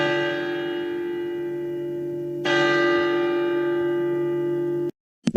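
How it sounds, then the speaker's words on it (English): An electronic chime rings a sustained bell-like tone, struck a second time midway, then cut off abruptly near the end. "stop ringing the doorbell"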